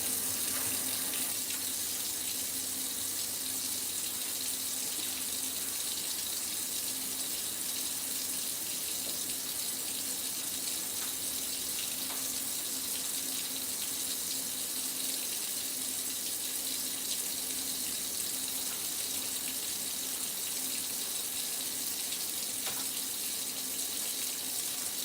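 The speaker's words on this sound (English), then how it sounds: "So I'm gonna be washing my rice now" Hot tap water runs steadily into a sink for the whole stretch while rice is washed, a constant close gushing hiss with no talking.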